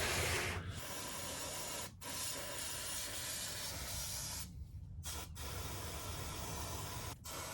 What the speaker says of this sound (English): I'll just give it a little squishy with brake cleaner